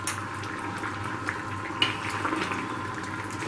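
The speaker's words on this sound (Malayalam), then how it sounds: "കറി നല്ലോണം തിളച്ച് മീനൊക്കെ ഏകദേശം വെന്തിട്ടുണ്ട്." A Kerala fish curry, Kottayam style, boils steadily in a pot, giving off a dense, continuous bubbling and simmering hiss with small pops and no voices.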